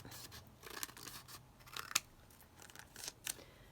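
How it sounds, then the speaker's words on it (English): Quiet, close snips of scissors trimming the edges of an envelope made from a cereal liner, several short crisp cuts at irregular intervals in a still room. "So we're just going to trim around the edges."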